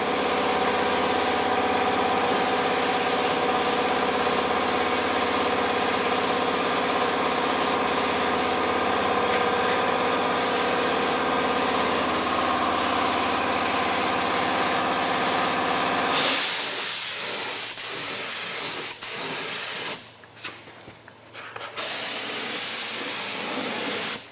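Steady loud spray-gun hiss as a runny coating is applied to an LJ Holden Torana in a workshop, continuous with brief pulses, changing in tone partway as the gun moves, with a short pause near the end.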